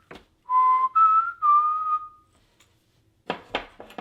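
Someone whistles the four-note Hunger Games whistle, clear and close, three held rising and falling tones followed by a brief pause and a few soft breathy sounds.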